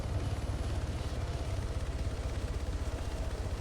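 An Arma 3 in-game helicopter sets down for a landing, its rotor giving a steady, fairly faint low rhythmic thudding with a continuous engine drone and no break throughout.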